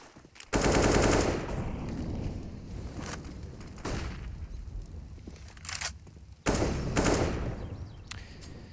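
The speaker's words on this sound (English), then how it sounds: "when you start firing off shots like that" Automatic gunfire from a CS:GO match on the Inferno map during a pro esports game, with loud sustained bursts at the start and near the end and shorter shots between, no talk over them.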